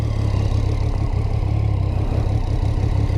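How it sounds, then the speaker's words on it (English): A Triumph Street Triple 675 Rx motorcycle with standard exhaust idles steadily nearby with a low, even rumble and no other sounds. "It sounds really nice with the standard exhaust on."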